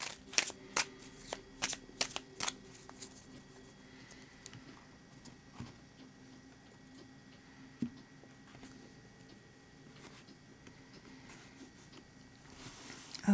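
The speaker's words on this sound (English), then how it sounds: "I'm going to go ahead and shuffle" Tarot cards shuffled by hand, a run of crisp riffling bursts in the first few seconds followed by softer, quieter card handling and light taps, close up with no talking.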